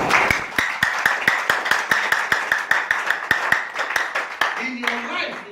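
Steady, rhythmic hand clapping from a church congregation during a sermon, with sharp claps about four or five per second over a speaking voice, fading out near the end.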